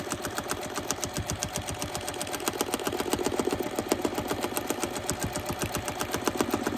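A domestic sewing machine doing free motion quilting, its needle hammering in a fast, even rhythm with a low motor hum that rises slightly midway, close and continuous.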